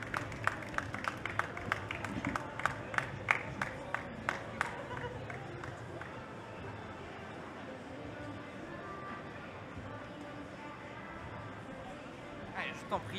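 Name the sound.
audience applauding volunteer coming on stage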